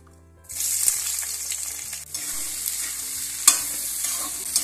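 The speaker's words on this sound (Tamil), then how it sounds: "இப்போ நறுக்கி வச்சிருக்கேன் 3 வெங்காயத்தை போட்டுக்கலாம்" Three chopped onions dropped into two tablespoons of hot oil in a pan, bursting into a steady close sizzle with scraping stirring sounds and a couple of sharp clanks.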